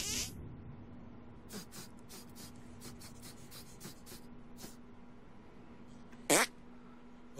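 A fart attack from the video game South Park: The Stick of Truth lets out one short, loud blast near the end, over a low steady hum and scattered light clicks.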